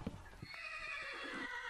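A pack horse in Minecraft neighs once, a shrill wavering whinny over a few faint hoof clops, heard on its own at modest volume.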